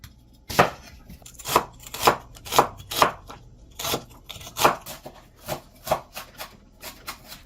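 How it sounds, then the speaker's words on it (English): A knife chops an onion steadily on a cutting board, about a dozen sharp, evenly spaced strikes close by, with nothing else in the background. "It is a lot of chopping"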